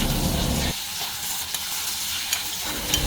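Chopped tomato frying in a pan for sambar is stirred and mixed, with a loud low rumble at first, then a continuous crackling sizzle under scraping strokes.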